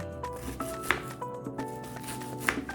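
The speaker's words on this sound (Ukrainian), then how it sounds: "Спочатку подрібнюємо на невеликі отакі кубики одну середню цибулинку" A knife chops a medium onion into small cubes on a cutting board, giving steady close taps about every half second, alone with no voices.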